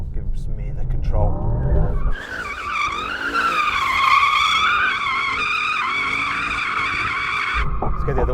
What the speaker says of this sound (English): drifting in the AMG, pull up on both paddles, confirm drift mode